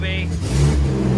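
A twin-turbo 1965 Ford Mustang engine settles into a rough, throbbing idle, then picks up into a louder rev. The sound is close and steady, with a short whine near the start.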